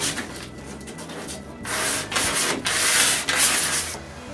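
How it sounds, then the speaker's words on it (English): Sandpaper rubs by hand over the sharp corners of an old wooden dresser in steady back-and-forth strokes, with louder, harsher passes alternating with softer ones. "Then I hand sand all the sharp corners of the old dresser."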